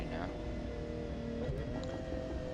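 A Ferrari's engine hums steadily while driving around town in the racing game The Crew 2, a sustained tonal drone with shifting pitch lines, sitting beneath a person talking.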